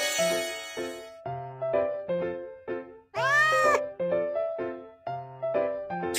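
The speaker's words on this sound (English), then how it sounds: "Cat." A cartoon cat gives a single drawn-out meow during a hearing test, rising and falling. It is set in the middle of a plucky, repeating tune that plays before and after it.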